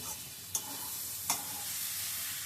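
Egg bhaji fries in a pan on a stove over a raised flame. A soft, even sizzle runs throughout, broken by two sharp taps of a stirring utensil.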